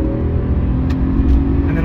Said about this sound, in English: So in second now, roll onto the throttle